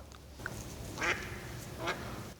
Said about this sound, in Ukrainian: качка щось розказує, возмущається